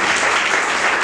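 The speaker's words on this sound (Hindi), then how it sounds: "जरा कल्पेश भाई के लिए, उनके टीम के लिए ताली बजाइए, जरा जोर से" An audience at a talk on the role of youth claps loudly for a team being honoured, a brief burst of close, dense applause that holds steady throughout.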